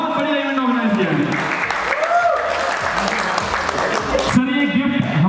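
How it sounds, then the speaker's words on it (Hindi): Audience clapping for the organizers of a photo and video exhibition fair, a steady crowd applause with a voice talking over it throughout. "सर इनके लिए ताली बजाता हूं बहुत जोर से"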